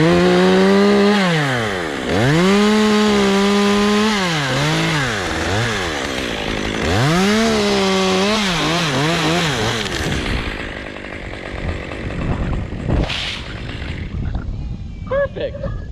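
Chainsaw cutting the top out of a massive tree, its engine revving loud and close in rising and falling surges before dropping away, followed by a crack and thud of the falling top, with a voice speaking.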